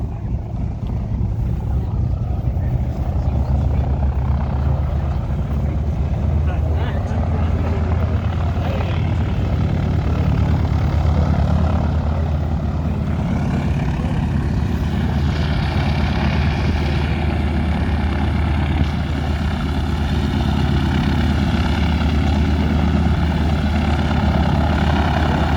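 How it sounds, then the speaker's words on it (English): The radial engines of a 1942 Douglas DC-3 crank and fire up, building into a loud, steady propeller drone and rumble that fills the whole stretch close by, with occasional talk beneath. "Number 2 engine always fires up first, and then the number 1."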